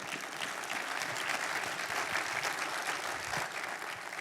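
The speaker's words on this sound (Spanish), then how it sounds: "Mi alma, dale pues ese aplauso grande al Señor." A congregation gives the Lord a big, sustained round of applause at a Spanish-language church sermon, dense and steady throughout with no talking.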